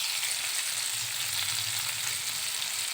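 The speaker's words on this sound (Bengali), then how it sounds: "আমি মাছগুলো সব উল্টিয়ে দিয়েছি এবং মাথায় আছে মাছগুলো আমি ভেজে নিচ্ছি।" Pieces of rohu fish fry in a pan with a constant, hissing sizzle that stays even throughout, close and unbroken by speech.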